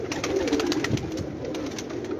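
Red-eyed pigeons on a rooftop loft coo in a continuous low, throaty warble, several birds overlapping close by with no voices present.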